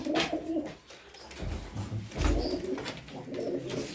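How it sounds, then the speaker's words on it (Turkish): Soft pigeon cooing in low, rounded bursts with light chirps in the background, steady and moderately close. "Kuşlar çok güzel arkadaşlar."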